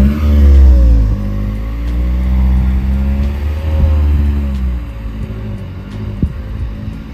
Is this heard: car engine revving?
yes